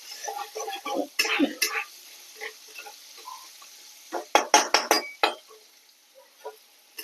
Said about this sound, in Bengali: এবার আলুগুলো একটু দু চার মিনিট ভালো করে কষে নিতে হবে